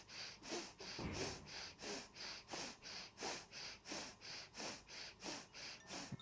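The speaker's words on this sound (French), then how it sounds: "le Bhastrika, on est retourné vers la respiration de feu" Bhastrika breath of fire in a yoga practice: rapid, forceful, rhythmic nasal breaths, about two per second, steady and close, with no talking.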